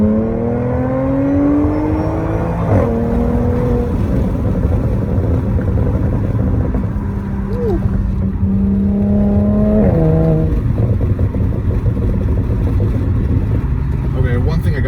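Supercharged VW GTI with an Integrated Engineering Stage 1 tune and exhaust modifications accelerating hard in quick pulls, engine note climbing loud and close from inside the car, dropping between gear changes.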